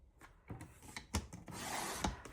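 Photo mat board being cut by hand: scraping and rasping strokes with a few sharp clicks and knocks, ending in a longer steady drag, close and fairly quiet with no talk.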